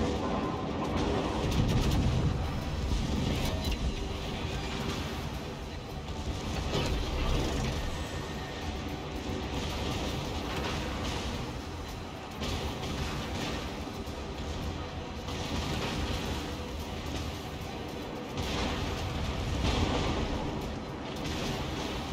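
Tank main gun blasts and heavy explosions from a ranked tank battle game, booming repeatedly over a continuous loud engine and combat rumble, with dense low-frequency impacts and no clear gaps.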